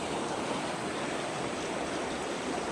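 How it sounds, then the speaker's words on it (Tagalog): River current flowing at a cold mountain camp in Laguna, a steady, dense rush of water heard up close, unbroken and without talking. "Ang ganda ng agos eh, no?"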